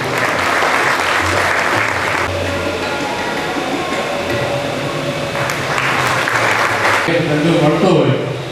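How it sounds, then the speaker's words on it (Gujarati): Audience applause at an Ahir community prize distribution ceremony, a steady crowd clapping that runs loud and continuous for the whole stretch, swelling slightly toward the end. "આપણે એને તાળીઓથી વધાવીએ"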